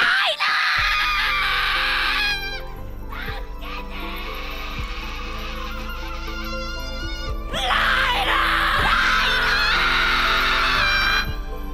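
Characters in an Attack on Titan anime episode scream loudly and at length, shrill sustained cries that break off briefly and return, over a steady low dramatic score.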